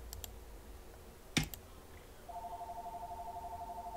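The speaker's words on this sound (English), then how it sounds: "It's the other phone ringing." A phone ringing in a quiet room, a steady warbling electronic ring pattern that starts partway in and keeps pulsing evenly, preceded by a few soft clicks and one sharp knock.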